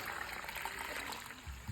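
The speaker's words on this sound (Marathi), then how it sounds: "यामध्ये पाणी टाकल्यानंतर हा" Water is poured into a pile of cow dung to mix a traditional floor plaster for a courtyard, making a faint, soft, steady trickle heard close up.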